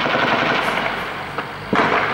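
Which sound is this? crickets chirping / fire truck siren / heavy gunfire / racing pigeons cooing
heavy gunfire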